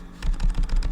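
Rapid typing on a computer keyboard, a quick run of close, crisp key clacks in an irregular rhythm, loud and alone with no talking.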